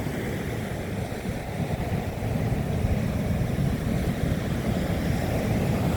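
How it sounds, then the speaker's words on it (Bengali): Rough sea waves roar steadily onto a blue-flag beach where sea and river run side by side, a dense continuous low rumble with wind buffeting the microphone and no voices. "এই হচ্ছে সেই সমুদ্রের উত্তাল তরঙ্গ"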